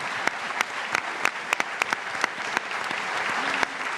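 Studio audience at a live radio talk show broadcast from Salamanca applauds, a steady wash of clapping with a few sharper claps standing out, no voices over it.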